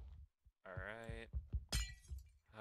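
A glass block shatters in Minecraft, a bright brittle crash following a buzzy tone, with soft clicks of play around it and quiet surroundings.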